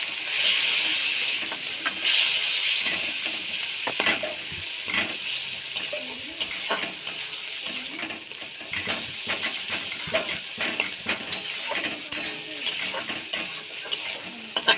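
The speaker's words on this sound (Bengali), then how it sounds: "জিরে গুঁড়ো এটাকে খুব ভালো করে কষিয়ে নেব মশলাটাকে" Spice masala with ground cumin sautéing in a pan, a bright continuous sizzle broken by frequent scraping stirs and small metallic clicks of the spoon against the pan, close and steady throughout.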